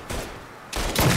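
Rapid burst of gunfire in the Mafia III video game, a loud volley at the start and another sharp cluster near the end, with no talking.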